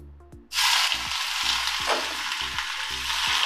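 Onion and crushed ginger-garlic hit hot oil in a pan for mutton curry, bursting into a loud sustained sizzle after a brief quiet start, with a regular low mechanical thumping repeating underneath.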